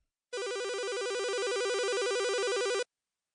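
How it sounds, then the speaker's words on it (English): An electronic telephone ring, one continuous warbling trill lasting a few seconds, loud and close, starting and stopping abruptly against silence. "Then the phone rang."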